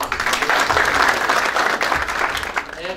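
A hall audience gives a team sustained, dense applause, with many hands clapping steadily at close range and a faint murmur of voices underneath.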